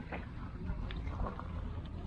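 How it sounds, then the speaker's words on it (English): Out on the water near a boat ramp, a boat with two V8 engines chugs faintly in the distance under wind noise and low rumble. "You can still hear them two V8s chugging along out there."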